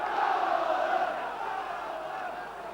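Football crowd at an Oldham Athletic v Everton FA Cup fifth-round replay, a broad sustained roar of cheering heard at a distance, fading slightly toward the end.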